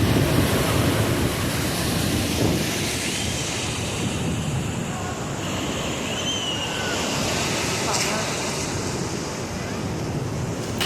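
Big sea waves roar and crash continuously onto a beach, a loud, steady broadband surge with wind buffeting the microphone and no clear talk over it.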